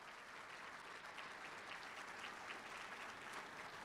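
Graduation ceremony applause, a large audience clapping in a continuous dense wash, even and sustained, heard at a distance and fairly faint.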